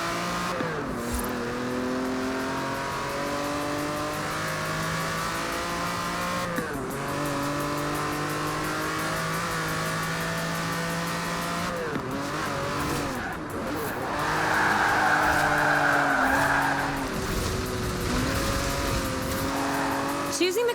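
A Lamborghini Countach in Forza Horizon 4 roars past a speed camera, its engine climbing and dropping through gear shifts, loud and close, with a brief tire squeal near the end.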